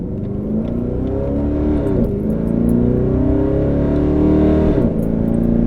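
A loud LS V8 engine in a modified Pontiac G8 GT revs up strongly twice, its deep throaty roar climbing in pitch and dropping back between pulls, close to the listener.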